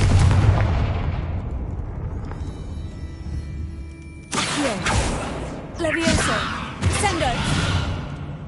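A fiery Confringo spell blasts in Hogwarts Legacy, with sudden booming bursts and crackling flame following a low rumbling ambience, repeated in quick succession.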